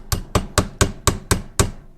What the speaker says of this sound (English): Take a hammer with a nylon head